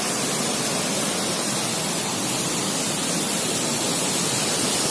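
A waterfall on the Annapurna trek in Nepal, near a suspension bridge, pours in a constant, dense hissing roar that fills the whole stretch evenly without pauses or voices.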